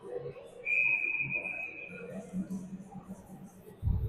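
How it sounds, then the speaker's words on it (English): A referee's whistle at a U12 AAA youth ice hockey game between the Soo Jr Greyhounds and Markham Waxers, one steady blast just over a second long, heard amid faint rink chatter and rumble. "Referee blows the whistle."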